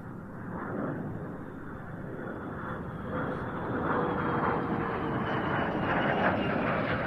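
A Norwegian F-35 jet comes in to land at an airshow, its engine a steady loud roar that builds slightly as it draws nearer, heard alone without talk.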